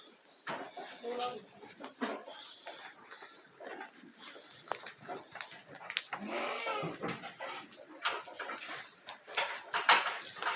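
A flock of Sakız sheep bleats repeatedly during morning feeding, several overlapping calls near and far, with people talking among them and a small bell jingling near the end.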